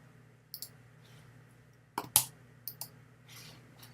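Quiet, sparse clicks of a computer mouse during drawing work, a few isolated taps and one sharper double click over a low steady hum.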